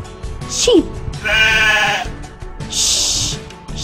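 Sheep bleat in short wavering calls, close and loud, each cry rising and falling with a buzzy tremble, repeated a few times with brief pauses between.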